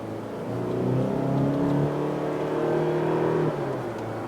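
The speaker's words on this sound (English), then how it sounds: "Now I'm gonna rev it up, and that is as fast as the car can go." A 2023 Kia Sportage XS Prestige SUV with a 2.5-liter engine revs and accelerates, its steady engine drone rising in pitch for several seconds, then easing slightly near the end, heard from inside the cabin with no talking.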